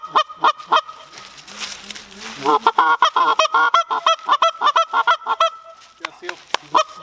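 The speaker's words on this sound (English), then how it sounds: "There's those geese again." A flock of geese honks repeatedly at dusk outdoors during a hunting outing, loud, close calls in quick, irregular bursts with a short stretch of rushing wind or wingbeats partway through.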